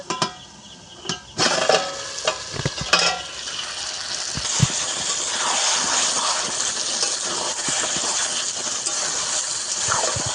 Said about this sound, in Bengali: এইভাবে একটু নেড়ে চেড়ে আবারও ঢাকা দিয়ে দেব